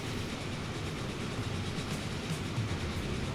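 Steady, broad rumble of an express train running in Transport Fever 2, a continuous even drone with faint rolling texture and no distinct events.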